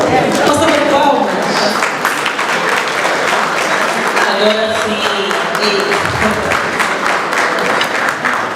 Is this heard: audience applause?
yes